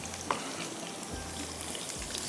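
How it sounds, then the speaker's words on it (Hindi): Onion frying in hot oil for a beef keema dish, a steady soft sizzle and crackle close by with faint scattered pops, no talking. "थोड़ा सा इसको फ्राई होने दें, फिर हम इसमें प्याज डालेंगे।"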